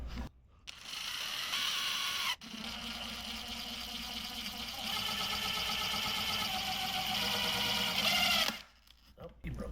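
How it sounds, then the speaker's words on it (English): A power driver whirs steadily for several seconds while driving short 3/4 inch Phillips screws into a plastic bucket for a DIY bee vacuum. It stops briefly once, then winds down near the end, close and fairly loud. "I'm just going to use some short 3/4 inch Phillips screws because I happen to have some around."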